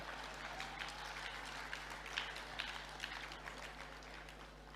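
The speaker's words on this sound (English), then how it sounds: "Shall we applaud him as well?" Faint, distant audience applause greets the President of Ghana at the African Prosperity Champions Awards, a soft continuous clatter of many hands over a low steady hum.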